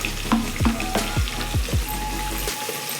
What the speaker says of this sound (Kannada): ಈರುಳ್ಳಿ ಸ್ವಲ್ಪ ಬ್ರೌನ್ ಬರಬೇಕು ಅಲ್ಲಿ ತನಕ ಫ್ರೈ ಮಾಡ್ಕೋಬೇಕು ಮಧ್ಯ ಮಧ್ಯ ತಿರುಗಿಸ್ಕೊತಾ ಇರಬೇಕು